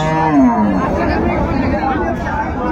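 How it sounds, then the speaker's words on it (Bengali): A cow lows once near the start amid the crowd at the Raniganj cattle market in Dinajpur, where cows are sold with their calves, while people talk and chatter steadily in the background. "চমৎকার চমৎকার গাভী বাছুরের আমদানি আজকে দেখছিলাম আমরা।"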